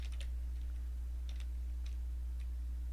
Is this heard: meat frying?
no